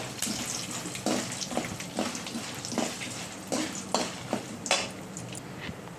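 Peanuts fry in a pan with soft sizzling and repeated scraping stirs, quiet and close, with no talk.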